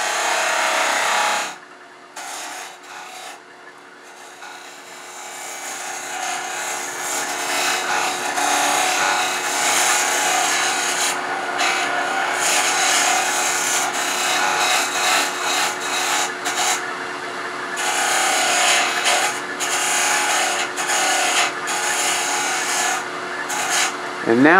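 Carbide woodturning tool scraping a spinning wood blank on a lathe, a steady close rasping and rubbing that runs almost unbroken after a brief quiet start.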